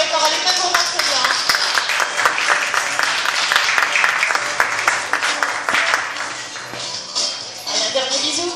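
Audience applause at an aquarium show for Claudia, a dense, steady patter of many hands clapping close by, lasting throughout and tapering slightly near the end, with voices talking over it.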